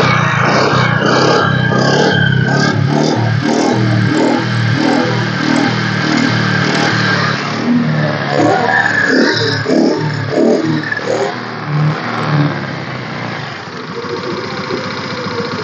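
A used 2016 Honda Activa scooter, single owner with self-start, starting and then revving in a market, a close buzzing engine note with rhythmic pulses that rise and fall, and speech heard at times.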